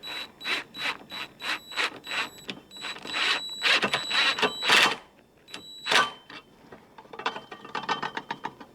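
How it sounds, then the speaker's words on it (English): Impact driver spinning stainless steel bolts on aftermarket exhaust tips of a V8 Celica GT-S, heard as a series of short, rapid rattling bursts with brief gaps, close and fairly loud, with lighter clicking toward the end. "that's using an impact driver on this"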